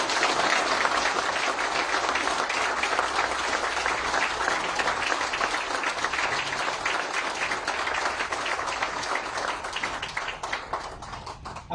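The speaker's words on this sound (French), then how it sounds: "Et nous applaudissons Samandine là bien fort." Sustained applause from an audience at a sugar estate handover ceremony, dense and steady clapping that fills the whole stretch and thins slightly toward the end.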